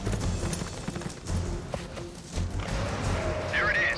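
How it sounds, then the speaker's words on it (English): Horse hooves clip-clop in the video game Metal Gear Solid: Peace Walker, a run of soft irregular thuds mixed with game music and effects, with a bright synth tone near the end. "that might be a robot horse, but we got a real horse right here."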